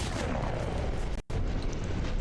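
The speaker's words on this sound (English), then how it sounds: "Lots of explosions happening." Dense gunfire and explosions in the Mass Effect video game, a loud continuous barrage of booms and shots with a brief drop-out midway.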